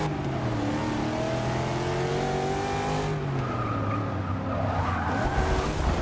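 An Ultima GTR drifts in Forza Motorsport 6, its engine droning steadily while tires squeal in long wavering tones throughout, loud and continuous with pitch shifting as the car slides.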